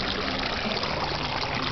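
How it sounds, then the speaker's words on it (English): Water trickles and patters steadily without a break as a bird sprinkles and splashes it in a zoo bird atrium, close and continuous. "No, she's sprinkling water."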